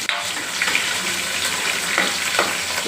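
Whole small onions sauté in hot oil in a pan for a fish curry, a loud, dense, continuous sizzle with a few soft stirring scrapes underneath.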